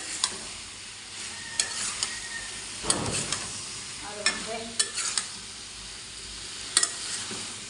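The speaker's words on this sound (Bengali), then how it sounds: "এবার সব একসাথে উপকরণগুলো কষায় সিদ্ধ করে নেব যাতে কচুর ভিতরে মশলাটা ঢুকে যায়" Spiced taro and prawn mixture cooking down in a pan, a steady soft sizzle and hiss broken by scattered scraping stir clicks and a brief louder rustle of spatula movement, close and with no talking.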